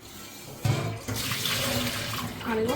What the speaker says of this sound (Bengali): দু তিনবার জল দিয়ে ভালো করে ধুয়ে ফেলে দিতে হবে